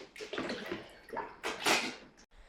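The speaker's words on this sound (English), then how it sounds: "we're gonna wash my hands again." Hands are washed under running water from a tap, a close splashing and rushing stream that rises and falls before stopping abruptly, with no talk.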